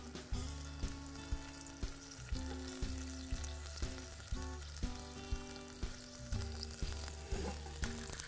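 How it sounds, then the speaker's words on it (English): Chicken sizzles in a hot frying pan, steady crackling punctuated by regular clunks of stirring or the pan shifting, close and without voices. "You'll hear it sizzling away."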